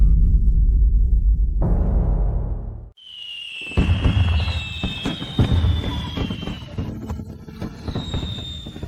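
A fireworks show goes off nearby: deep rumbling bursts give way to a sharp high whistle and a crackling spray of explosions that keeps going loudly for several seconds.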